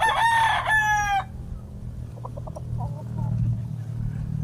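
A rooster crows loudly and close by at a chicken farm, one full crow over the first second, followed by farmyard background noise with faint distant bird calls.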